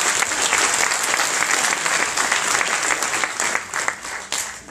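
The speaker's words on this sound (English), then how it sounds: "Well, thank you for that spontaneous applause." A lecture audience applauds a speaker taking the stage: dense, loud clapping from a large crowd holds steady for several seconds, then thins slightly toward the end.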